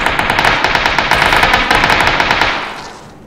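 Rapid bursts of automatic gunfire in a video game rattle loudly and continuously, then trail off into a fading echo.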